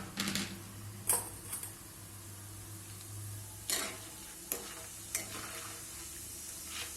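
Roasted dal frying in oil for Diwali chivda, a low continuous sizzle broken by sharp clicks and scrapes of a spoon stirring against the pan.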